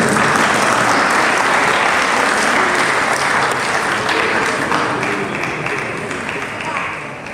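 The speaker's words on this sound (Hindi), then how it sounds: "ताली बज रही है आप लोग।" A large crowd at a Jain procession and godbharai ceremony in Saharanpur applauds loudly and continuously, the dense clapping fading slightly toward the end, with a faint voice underneath.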